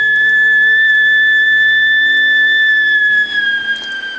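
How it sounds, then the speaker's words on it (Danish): A steady, piercing whistle from a kettle heating over an open fire, with two bright pure tones held loud and constant, wavering slightly toward the end. "Det tager sin tid, før Victoria fløjter, og hun giver sådan en vred en gang imellem."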